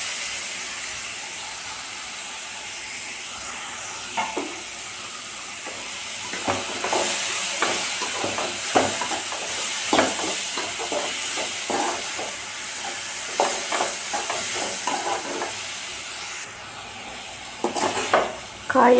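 Chopped snake gourd added to tomatoes frying in a pan, a continuous hissing sizzle with repeated scraping stirs clustered through the middle, close and fairly loud, ending in a sharp clatter.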